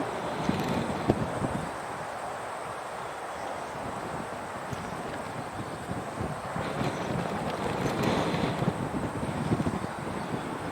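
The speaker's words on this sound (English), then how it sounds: "The wind is brutal." Strong wind blowing outdoors, a steady broadband roar and buffeting across the microphone throughout, with gusts swelling louder toward the end and no other clear sounds.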